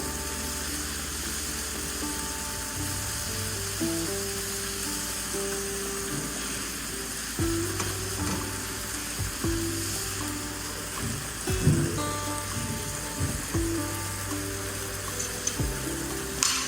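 Cleaned fish frying in a pan, making a continuous close sizzle with occasional sharper crackles and a few clunks and scrapes over the whole stretch.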